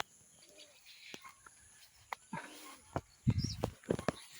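Soft pigeon coos and scattered bird calls, fairly faint, mixed with light knocks and shuffling nearby.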